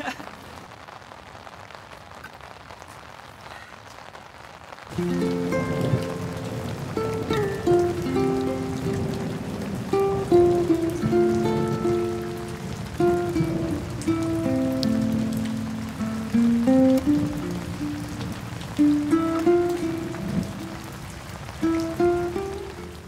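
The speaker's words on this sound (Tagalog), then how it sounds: "Umuulan pa rin." Steady rain falls on a campsite in Baguio, a dense patter that grows louder after a few seconds, with faint voice-like tones mixed in.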